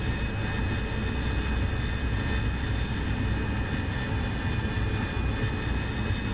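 A Harrier jet engine in the DCS World flight simulator, running at about 98% thrust with a steady, even roar and a high whine, loud and unbroken throughout.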